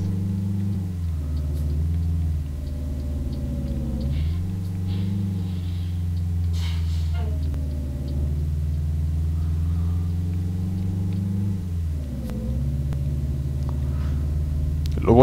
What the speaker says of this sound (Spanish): cuando acelera mucho, se escucha un ruido del motor